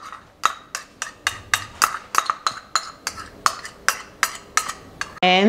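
A utensil stirs a ketchup and mustard glaze in a bowl, making about a dozen rhythmic clinks and scrapes against the bowl, close and evenly spaced, with a brief different sound at the very end.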